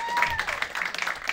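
A comedy club crowd at the Lincoln Lodge gives a short burst of scattered applause while a voice talks over it.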